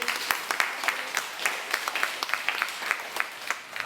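An audience applauding after a scene of a children's play based on Le Petit Poucet, brisk, fairly close clapping with distinct individual hand claps popping out over a steady wash.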